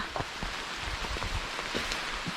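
Steady rain falls on a mountain trail, a dense broadband hiss with scattered soft drop impacts and low rumbles, fairly close and continuous with no voices.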